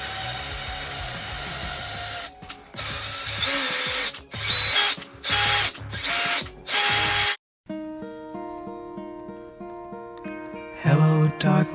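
A threading tap is run through a bolt hole on a mini bike sidecar build with a power driver, giving several short, close, loud whirring bursts with brief pauses between them, then quieter mechanical ticking.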